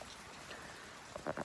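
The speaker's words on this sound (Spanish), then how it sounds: "está lloviendo." Steady rain falls on a wet day, a faint, even hiss of drops with a few slightly louder patters near the end and no voices.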